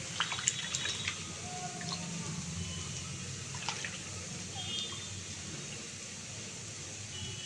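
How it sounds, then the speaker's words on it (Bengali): Food for a breakfast dish is rinsed in water, with soft, continuous splashing and trickling close by and a few brief drips throughout. "এটা আমি কয়েকবার ধুয়ে ফেলে দেব"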